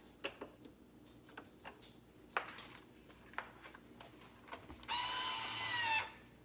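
Vacuum sealer closing the bottoms of quart-size freezer bags for sweet corn, preceded by scattered clicks and handling taps, then a steady whirring hum of about a second, close and fairly quiet, no talking.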